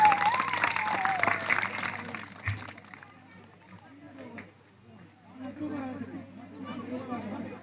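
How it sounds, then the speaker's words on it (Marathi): Applause from a crowd at a school annual gathering comes in a dense burst for the first few seconds, then fades into chatter and children's voices moving around the hall. "एकदा जोरदार सर्वांनी टाळ्या वाजवायचे आहेत"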